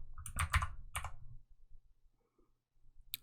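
Keys clatter on a computer keyboard while entering a command in 3D modeling software, a quick burst of close clicks followed by a pause and one final tap.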